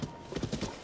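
Horse hooves clip-clop in the video game Tears of the Kingdom, a quick run of close, muffled thuds lasting under a second with no talk.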